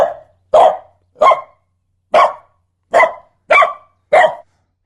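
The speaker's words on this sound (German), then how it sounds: "Ich sage, das ist echter Hund." A dog barks seven times, loud and close, in single sharp barks spaced by short pauses, with no talking.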